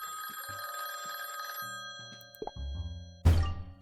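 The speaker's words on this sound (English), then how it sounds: "We're really answering a phone in someone's office?" An office telephone in a Nancy Drew game rings with a bright, sustained electronic bell tone, followed by clicks, a clunk as the receiver is handled and a loud thud at the end.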